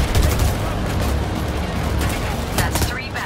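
Rapid, loud gunfire bursts from snipers during a heist in the Payday 3 video game, crackling shots layered over a busy, noisy firefight.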